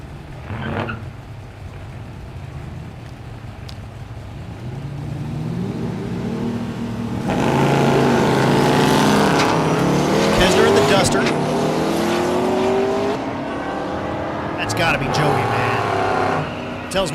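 Drag race cars, including a stick-shift Corvette in the right lane, roar down the strip at Thunder Valley in Noble, Oklahoma; a low idle rumble swells into a loud, sustained full-throttle run with shifting engine pitch, under an announcer's voice.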